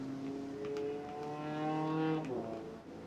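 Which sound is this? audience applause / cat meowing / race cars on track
race cars on track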